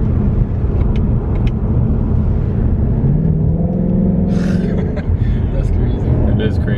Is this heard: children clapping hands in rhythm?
no